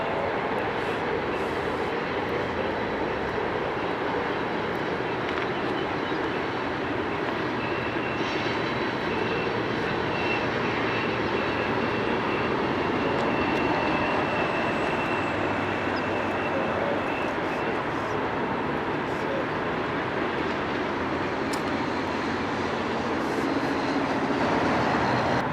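Long freight train rolling through Cajon Pass, a continuous heavy rumble and wheel noise that holds steady and fairly loud for the whole stretch with no voices.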